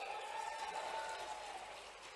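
Audience at a chief minister's outdoor public rally claps, a dense, steady wash of hand-claps lasting about two seconds at moderate volume with no clear speech on top.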